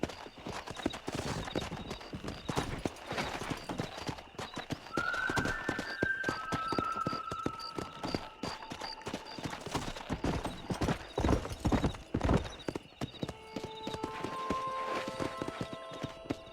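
Horse galloping in the Red Dead Redemption video game on Xbox 360, a steady rapid drumming of hoofbeats throughout, with a whinny and faint music in the background.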